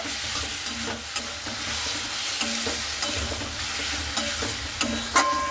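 Taro stems frying in a pan are stirred and turned repeatedly, with a soft continuous sizzle under recurring scrapes and clinks of the spatula against the pan, close up and without speech.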